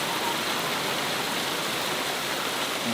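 Steady rain falls outside a converted bus, an even, dense hiss of drops with no break, close and moderately loud throughout.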